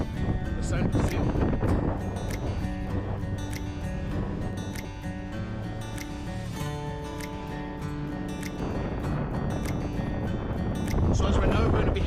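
A 6.5hp four-stroke outboard boat moves over water near Dunoon with wind buffeting the microphone, and voices speak now and then over the steady rushing noise.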